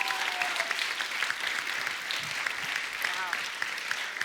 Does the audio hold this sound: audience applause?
yes